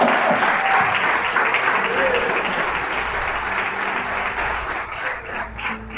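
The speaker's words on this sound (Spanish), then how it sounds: "Le da un aplauso a Dios y despierta usted." Church congregation applauding together in a sustained, dense wave of clapping that fills the room and tapers slightly toward the end.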